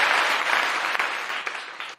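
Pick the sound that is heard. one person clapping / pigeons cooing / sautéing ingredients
one person clapping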